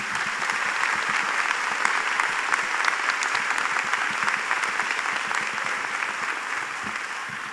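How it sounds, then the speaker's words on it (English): Sustained applause from a large crowd at a summer commencement ceremony, dense and even clapping that fills the whole stretch at a steady, loud level without letting up. "if you're happy and you know it, clap your hands"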